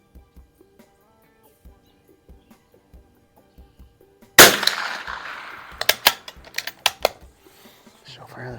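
A .22 LR Anschutz rifle fires Federal Auto Match rounds outdoors: soft faint ticks at first, then a sharp loud report at about 4.4 seconds followed by a cluster of crisp cracks and clicks from handling the rifle.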